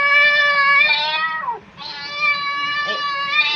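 A cat meows in a children's animal-sound guessing game. Two drawn-out, fairly loud meows are heard close up with a brief dip between them.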